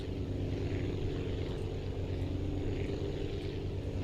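A propeller plane built in Aviassembly drones steadily at full power during a takeoff run, a continuous moderate engine hum with no other sounds.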